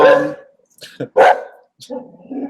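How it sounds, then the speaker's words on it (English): A puppy barks in a few short, loud yips and yelps, close by, with voices present in between. "you guys hear a puppy"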